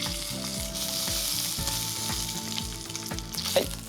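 A hamburger patty sears on its sides in a deep frying pan over medium-high heat, giving a loud, continuous crackling sizzle with repeated low scraping or thumping bursts, alone with no talk.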